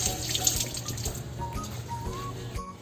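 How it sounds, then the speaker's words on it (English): Tap water runs into a kitchen sink while hands are washed before measuring baking ingredients, a continuous splashing rush with shifting gurgles, close and fairly loud. "So the first thing we need to do is to wash our hands."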